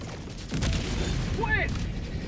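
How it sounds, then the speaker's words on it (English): A deep, booming orbital strike explosion lands in Helldivers 2, a sustained low rumble that swells and rolls on, with a brief whistling mechanical tone partway through. "Calling in orbital strike! Orbital strike incoming."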